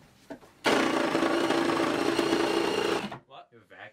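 A power saw cuts a desk in half, starting abruptly after a brief bit of speech and running as a loud, steady, buzzing whine for a few seconds before stopping, followed by voices talking nearby.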